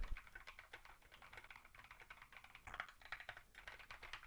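Rapid, continuous clacking of computer keys, a steady flurry of soft taps at low volume.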